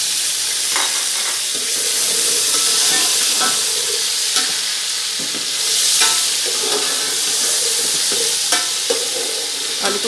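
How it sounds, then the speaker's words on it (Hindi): Potatoes frying with browned onions in a pan for aloo tahari, giving a loud, continuous sizzle with the scrape and clatter of stirring throughout. "आलू को थोड़ा सा फ्राई करेंगे।"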